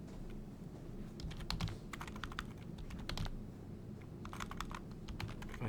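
Close, quiet typing on a computer keyboard: bursts of rapid clicking keystrokes separated by short pauses.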